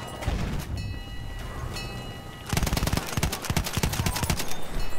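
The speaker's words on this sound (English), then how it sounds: "Enemy machine gun." Enemy machine gun fire in Battlefield 1 rattles out in a rapid, loud burst of sustained shots in the second half, after a stretch of rumbling battlefield noise.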